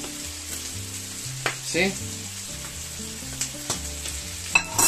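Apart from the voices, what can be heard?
noodles frying in a paella pan for fideuá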